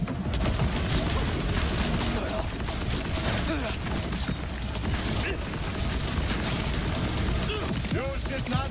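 Shotgun-style gun in the Borderlands game, C4SH build, firing 14-pellet blasts in a dense, continuous barrage of gunfire and clatter that fills the whole stretch, with players talking over it.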